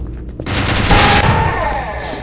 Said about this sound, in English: this is an SMG with a minigun mode